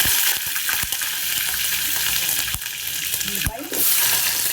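Curry leaves, onions and green chillies fry in hot oil with cumin for a potato, raw mango and drumstick curry, a steady close sizzle with a few sharp crackles and stirring knocks throughout.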